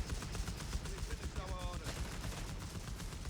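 An MG team in Company of Heroes 3 fires faint, rapid bursts while Grenadiers advance in a competitive match, the chattering gunfire sitting low under commentary.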